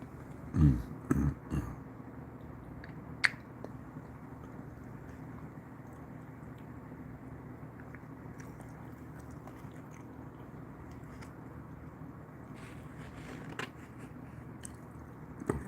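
Someone chews a breakfast of eggs, biscuits, gravy and sausage up close, with a few crunchy bites at the start and then quiet, soft chewing.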